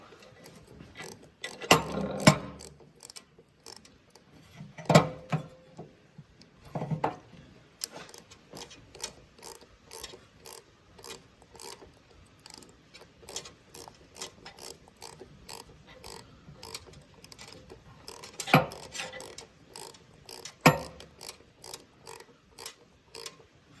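Tightening bolts on an International truck thermostat housing gives scattered ratchet clicks and metallic taps, some in quick runs and some single, close and fairly faint with no talk.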